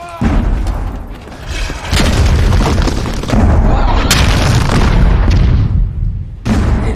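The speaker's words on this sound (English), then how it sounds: "Cannon fire!" Cannon fire from the pirate ship Black Pearl attacking Port Royal in a film: a series of heavy, booming blasts with rumbling aftermath, loud and repeated over several seconds.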